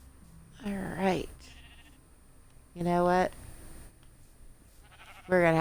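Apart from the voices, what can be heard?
sheep bleating in Minecraft video game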